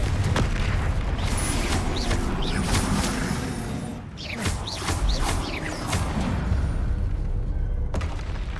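Confringo spell blasts from Hogwarts Legacy, heard as a dense run of booming explosions and crackling bursts, loud and continuous across the scene with a brief dip midway before the rumbling impacts resume.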